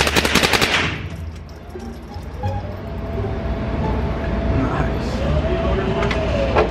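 Rapid gunfire from a .22 rifle with a binary trigger at a shooting range: a quick burst of sharp, loud shots at the start, then a lingering noisy outdoor background.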